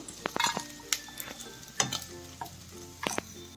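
Ingredients frying in a pan for a pesarattu omelette curry, browning in oil with scattered sizzling bursts and occasional spoon scrapes and stirs, close and fairly quiet with no talking.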